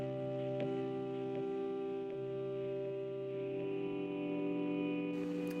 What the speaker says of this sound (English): I've got some ambient guitar pads as well.